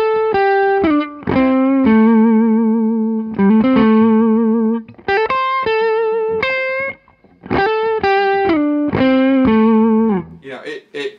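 Electric guitar run through distortion and chorus effects plays sustained notes and bends with wide vibrato, phrases separated by short gaps, loud and close with no voices.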